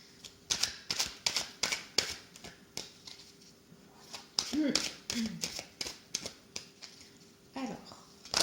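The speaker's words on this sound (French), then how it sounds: "je bats les cartes devant vous" A deck of tarot cards being shuffled by hand gives a rapid run of close, crisp clicks and flutters, with a voice briefly heard midway.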